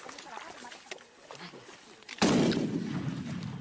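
A bomb blast in Colombian combat erupts suddenly and loudly after a quieter stretch of distant activity, its rumbling roar lingering to the end.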